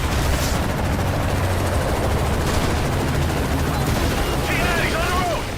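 Video game battle gunfire crackles in dense, continuous bursts under loud combat noise and a rumbling backdrop, with shouted voices over it.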